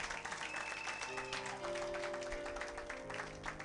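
A church congregation claps in praise, a dense continuous round of applause mixed with sustained organ or keyboard tones, fairly faint and distant.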